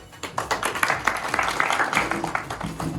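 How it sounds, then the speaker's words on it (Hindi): Loud applause for a national president at a political gathering, a crowd clapping steadily and energetically throughout, close and full. "इनकी जोरदार ताली हो जाए"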